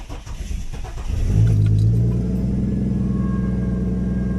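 A turbocharged Jeep Cherokee XJ engine cranks, catches and settles into a loud, steady idle rumble close by, with a brief rev as it fires up and no talking.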